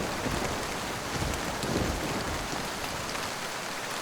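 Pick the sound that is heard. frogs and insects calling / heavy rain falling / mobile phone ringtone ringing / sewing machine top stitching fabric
heavy rain falling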